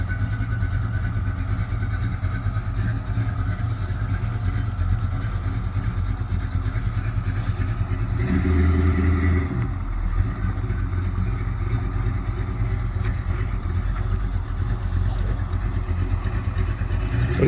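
A 1987 Chevy S10 with a V8 and a 3800 stall converter rolls out of a garage under its own power, a steady low engine rumble with a brief louder rev in the middle.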